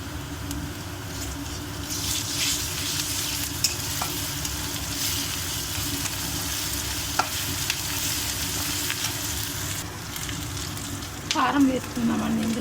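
Ginger garlic paste sizzles steadily in a pan for an aloo fry, a close continuous frying hiss with occasional stirring scrapes and a brief louder clatter near the end.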